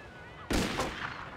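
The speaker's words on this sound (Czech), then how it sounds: "Ty vole, tady po mně střílí nějaká jebka" A single sharp gunshot from a 1930s-style gangster game cracks loudly after a quiet stretch, leaving a short rumbling tail behind it.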